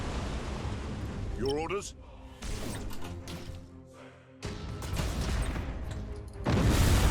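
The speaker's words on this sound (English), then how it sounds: "we'll do a torpedo run on you as well" Torpedo strikes burst against starships in a Battlefleet Gothic Armada 2 space battle, loud crashing impacts and rumbling blasts in several bursts over steady game noise, with a short spoken line near the start.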